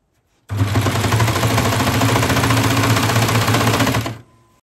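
A sewing machine runs steadily for about four seconds, stitching the hem band onto a sweatshirt. The needle chatters in a rapid, even rhythm up close, then stops.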